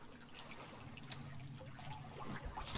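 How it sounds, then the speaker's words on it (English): Faint trickling water in the survival video game The Forest, a soft steady flow in the background of a quiet scene. "I'm hearing water, dude."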